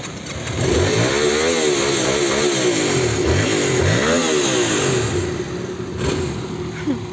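A motorcycle engine runs at a riding lesson during clutch practice, its steady drone rising and falling through repeated revs while the bike moves slowly, loud and close throughout.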